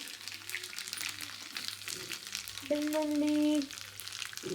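Garlic sizzles and crackles in hot oil with a soft, steady fizz and light popping, and a short tonal hum rises briefly partway through.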